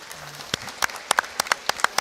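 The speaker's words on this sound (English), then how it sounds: "Nice round of applause from the crowd." Scattered, sparse clapping from a small crowd at a wrestling tournament, a handful of distinct claps spaced irregularly across a couple of seconds in a quiet gym.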